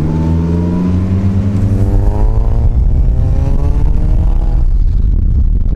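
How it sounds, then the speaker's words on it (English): A Datsun 1600 coupe fitted with an SR20 engine, a 2.2 stroker with custom billet fuel rail and 2,200cc injectors, revs loudly and steadily close by. The engine tone climbs and falls through several sustained throttle pulls with no talk. "Happens to be an SR20 Datto 1600."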